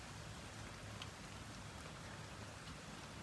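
A steady rain pours down, a dense, continuous hiss of heavy drops at an even level throughout, with no other sounds present.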